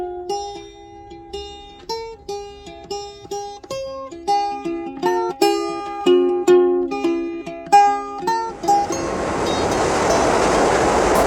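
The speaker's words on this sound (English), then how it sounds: "I caught the number 7 train to Flushing in Queens." A series of stepped, ringing tones plays in sequence, then a New York City number 7 subway train's loud steady rumble on the rails to Flushing, Queens, takes over.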